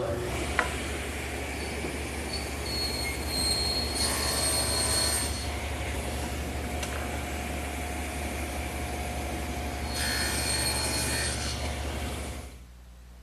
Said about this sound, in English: now I'll make the shoulder cut on each end of all the rails